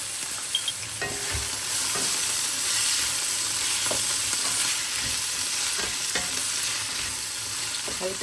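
Onion and garlic fry together in a pan with a steady, broad sizzle, punctuated by occasional light stirring clicks and scrapes close by; no one speaks.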